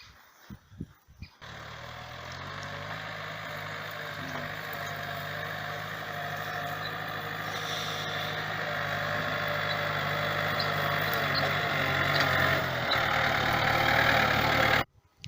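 A tractor engine pulling a Bomet 3-25 plough runs steadily at a low throbbing idle for the whole stretch, growing slightly louder toward the end before cutting off.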